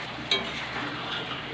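Eggs frying in a small wok are stirred, giving a steady close sizzle with a brief utensil clink near the start and no talk.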